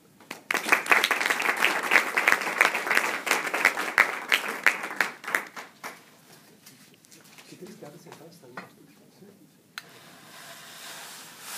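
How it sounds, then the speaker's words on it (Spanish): An audience applauds in welcome of Senator Jorge Robledo, dense loud clapping for about five seconds that thins into scattered claps and fades, with a brief sharp knock near the end. "recibamos al senador Robledo con un aplauso"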